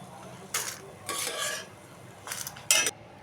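Shallots and gongura leaves being stirred in a frying pan over a medium flame: four short scraping, rustling stirs of the spoon against the pan over a faint sizzle, close and with no talk.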